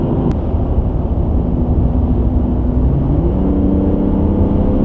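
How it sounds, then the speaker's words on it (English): A 2002 BMW 325i E46 with its M54 straight-six engine drones loudly from inside the moving car, a steady low engine note that climbs slightly in pitch as it pulls, with no talking over it. "And that engine note, that M54 is such a brilliant engine."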